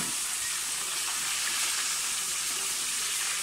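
Fish pieces fry in hot oil in a cooking pot, giving a loud, close, continuous sizzling hiss that holds steady throughout with no voices.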